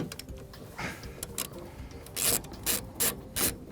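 A hand ratchet clicks in short repeated bursts while loosening the bolts holding a motorhome headlamp, with close, crisp rhythmic ratcheting and faint rubbing between strokes.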